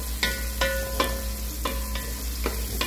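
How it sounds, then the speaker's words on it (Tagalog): Onions sizzling in a hot pan for sinigang na bangus, a steady close frying hiss punctuated by about seven regular scraping stirs, with no talking. "Lutuin natin ng konti yung sibuyas"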